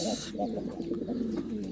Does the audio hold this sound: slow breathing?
no